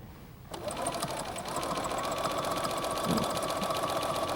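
Sewing machine stitching binding onto a quilt, starting after a short quiet moment and then running as a steady, fast mechanical whir with rapid needle ticks, close and continuous.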